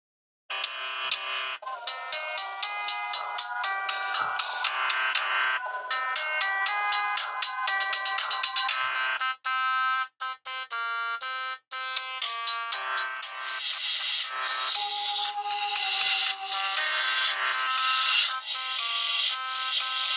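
A polyphonic melody ringtone plays from a Sony Ericsson T230i, a 2003 budget mobile phone. The synthesized tune runs steadily for about twenty seconds, with a few brief gaps midway, alone and moderately loud.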